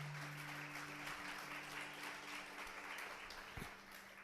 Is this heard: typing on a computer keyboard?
no